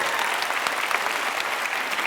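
Audience applause fills a live stage talk as a woman is invited up, dense steady clapping from a crowd throughout, close and full with no speech over it.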